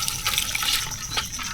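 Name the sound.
water being poured while cooking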